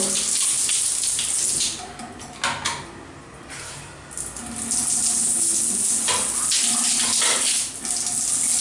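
Water from a shower head mounted high in an apartment bathroom with a drain grate runs loudly and steadily, briefly thinning twice as the tap is turned, with no talking.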